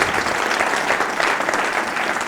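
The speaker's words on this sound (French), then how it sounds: "Donc je voudrais qu'on les applaudisse très fort si vous êtes d'accord." A live audience breaks into dense, steady applause with many hands clapping at once, holding a full, even level from start to finish with no voices on top.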